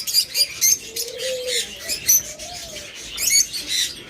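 Pet lovebirds or cockatiels kept in pairs for sale chirp and tweet continuously, a busy overlapping chatter of high calls with a few softer whistled notes underneath, and no voices.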